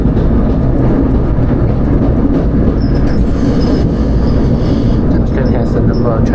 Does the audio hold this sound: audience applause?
no